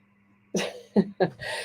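A person sneezes during a live radio show, several short, sharp, close bursts in quick succession after a moment of quiet.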